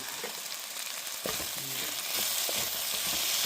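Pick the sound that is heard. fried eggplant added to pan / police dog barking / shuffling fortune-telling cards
fried eggplant added to pan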